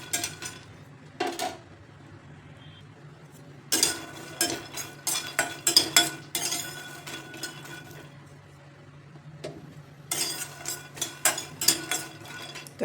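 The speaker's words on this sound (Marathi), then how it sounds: "तर शेंगदाणे असे मीडियम फ्लेमवरती छान खरपूस भाजून घ्यायचे." Peanuts being dry-roasted in a pan over a medium flame, with bursts of metallic scraping and rattling from stirring against the pan, alternating with quieter pauses.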